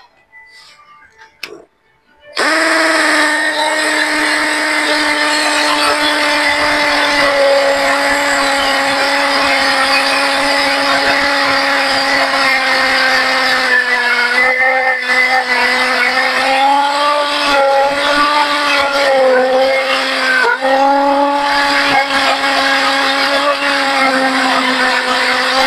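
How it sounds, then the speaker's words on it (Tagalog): A Ryoku 10mm carbon impact drill in hammer mode at 25 torque bores into cement, starting after a few faint knocks and then droning loudly and steadily for over twenty seconds, its pitch wavering slightly as it bites. "susubukan po natin yung hammer natin sa semento o pader or sa lahat ng mga klaseng semento"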